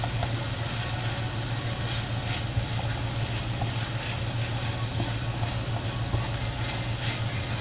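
Oily sisig fries and is stirred in a pan, making a steady, close, dense sizzle under a low background hum, with faint scraping from the stirring and no voices.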